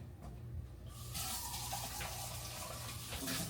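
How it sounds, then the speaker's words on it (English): A thin stream of water runs steadily into a pan of beef and broccoli sauce, a soft continuous splashing that grows fuller after the first second, with no one talking. "I'm going to put a little water so it won't be so thick."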